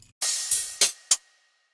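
Crash and hi-hat cymbal samples from a tropical house pack: a bright sustained crash washes out first, followed by two short crisp hi-hat hits, loud and isolated.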